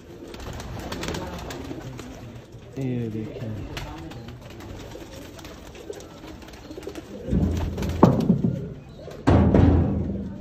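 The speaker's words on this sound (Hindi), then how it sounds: "उनके हीनो कबूतर, हीनो ब्रीड के कबूतरों का दोस्तों आपको शौक करवा रहे हैं" Heeno breed pigeons coo softly nearby while someone speaks over them, with occasional thumps and flutters mixed in.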